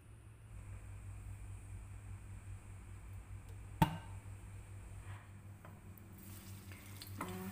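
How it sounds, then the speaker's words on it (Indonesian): Tempeh fries in hot oil in a wok, giving a faint, steady sizzle over a low constant hum, with a brief sharp clatter near the middle and another toward the end. "kita akan goreng tempenya sampai matang dan kuning kecoklatan ya teman-teman"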